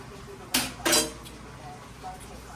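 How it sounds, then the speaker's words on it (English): A lid is set back onto a pot of gnocchi mushroom soup: two quick metallic clanks in close succession, fairly close and loud, then quiet kitchen background. "So what we'll do is put the lid right back on top of there."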